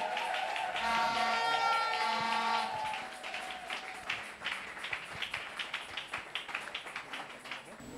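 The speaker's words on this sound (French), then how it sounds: "Et sous vos acclamations, nous recevrons le prophète, le pasteur Samson." A church congregation at an anniversary celebration cheers and applauds to welcome a pastor, a loud sustained roar with music that fades into scattered clapping and crowd noise.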